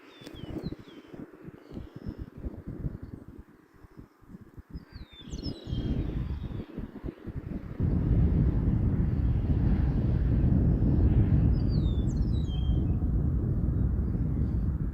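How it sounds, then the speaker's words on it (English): An Arrows P-51 Mustang RC model plane flies overhead, a droning engine hum that grows louder and steadier midway, mixed with wind buffeting the microphone and a few distant bird chirps. "Probably one of the best behaved P-51 Mustangs I've ever flown."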